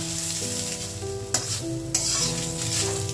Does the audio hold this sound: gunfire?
no